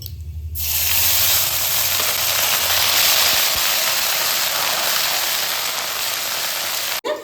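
Ginger paste dropped into hot oil tempered with dried red chilli and cumin for a cabbage dish, giving a sudden loud, steady sizzle that holds close and even, then cuts off abruptly.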